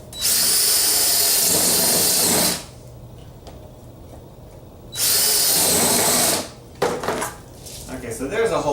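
A power drill bores one-inch holes in wood, with a 2x4 clamped on as a depth stop. Two loud, steady whining bursts of a few seconds each are separated by quieter handling noise, then clatter and rustling follow.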